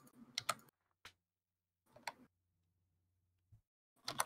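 Clicky, noisy computer keyboard typing captured by a mic, a few short clusters of keystrokes and single clicks with gaps between, close and fairly quiet.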